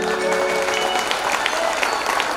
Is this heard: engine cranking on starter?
no